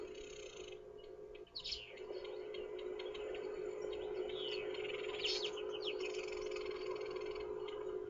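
Village weaver birds chirp in a tree near a vehicle, with a few males chasing a female; scattered bright calls rise faintly over a steady hum, clustering around the start and again midway.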